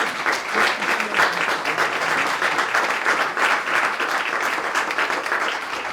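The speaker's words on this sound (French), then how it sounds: "peut-être quelques applaudissements en plus parce que Bernard part à la retraite" A seminar audience gives loud, sustained applause for a retiring colleague, a thick, even wash of many clapping hands filling the room throughout.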